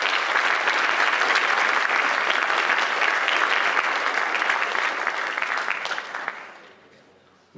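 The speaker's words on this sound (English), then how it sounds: "So let's give her another round of applause." An audience applauding at a winter sports awards ceremony, a dense, loud, steady round of clapping that holds for several seconds before fading out.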